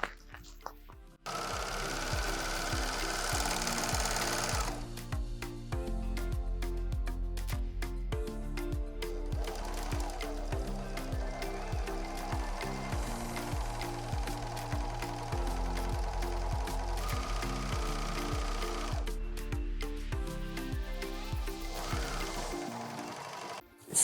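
An overlock sewing machine stitches a test piece of fabric in a long, steady run of rapid rhythmic pulses, close and fairly loud, with brief pauses near the start and end.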